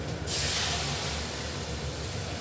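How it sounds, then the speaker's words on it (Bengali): Boiled chana dal, cooked with salt, is tipped into a hot pan, setting off a loud, steady hiss that starts abruptly and holds for about two seconds with no voices. "এবং সিদ্ধ করা ছোলার ডালটা দিয়ে দিচ্ছি"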